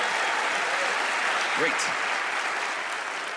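An audience breaks into steady, full applause at a magic show, sustained and even throughout, with a single brief voice speaking over it midway.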